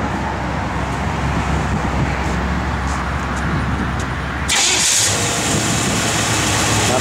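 A 1967 Chevrolet Impala SS idles in a low, steady engine rumble that continues evenly, with the background shifting partway through to a brighter, louder wash; no one speaks.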